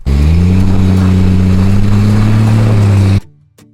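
A vehicle engine runs steadily at close range with a strong low drone for about three seconds, then abruptly drops away, leaving a faint fading tail, on a remote road far from help.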